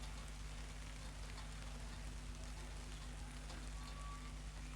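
Rain falls steadily and softly outdoors, a constant, even patter with a low, faint background hum and no voices.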